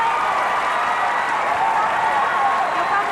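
A school audience applauds and cheers for the Nakhon Nayok Wittayakhom team at a school competition, a dense, steady wash of clapping and crowd noise that stays loud throughout.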